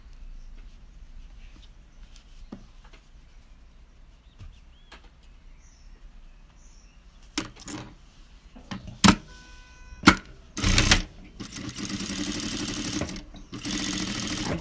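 A sewing machine stitches batting to fabric in short bursts, starting quietly and growing into louder, sustained whirring runs toward the end, with brief knocks and handling noises between.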